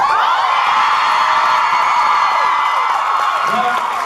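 A convention panel audience at DallasCon roars with cheering, whoops and applause, a loud dense crowd sound that holds steady throughout, with shouted voices mixed into the noise.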